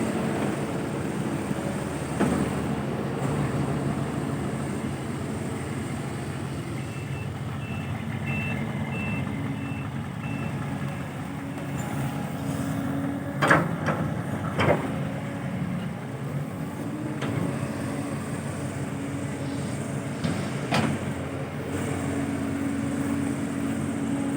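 A CAT excavator loads a dump truck, with a steady diesel engine rumble throughout, repeated reversing beeps and a few sharp clanks of the bucket, all close and without talk.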